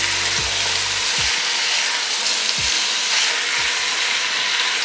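Carrots, calabash and other vegetables sizzle steadily in a pot while being cooked down for a creamy soup, with a continuous close hiss and a few low utensil knocks scattered through.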